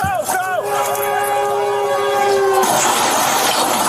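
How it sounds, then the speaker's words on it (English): Train horn blaring steadily as a train approaches a small plane stuck on railroad tracks, a loud sustained multi-tone blast that cuts off abruptly, followed by a rushing roar and commotion. "Here he is in the plane on the railroad tracks. The train is coming."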